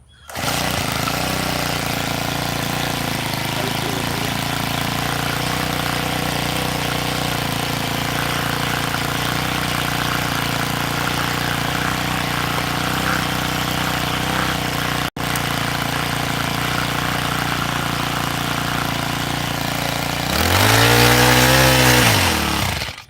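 Small garden tiller engine running steadily and loudly at idle for about twenty seconds, then revving up briefly near the end with a rising and falling pitch.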